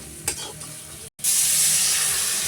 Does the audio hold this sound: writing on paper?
no